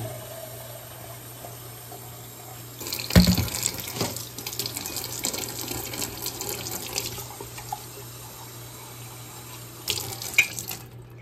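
Tap water runs and pours while an anthurium plant is watered indoors, a steady flowing stream that starts after a few seconds of quiet, continues at moderate volume and tapers, with a brief second burst near the end.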